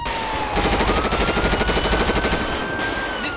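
Rapid automatic gunfire in the video game GTA 5 rattles loudly and continuously in a steady fast rhythm, with a rising engine-like whine running underneath.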